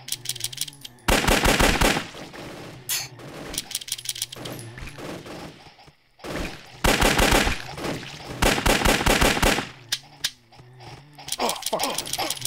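Bursts of rapid automatic gunfire from a gun in the 2D video game Shambles, loud and close, in several long volleys separated by short pauses, with single shots and no talking.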